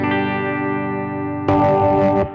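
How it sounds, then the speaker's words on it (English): Clean electric guitar tone played through a germanium versus silicon pedal: a sustained ringing chord, then a fresh strum at about 1.5 seconds, heard alone and close. "Here's my clean tone."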